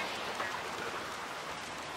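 Steady rain falling in the video game Max Payne 2, a dense even hiss of drops with no other sounds over two seconds.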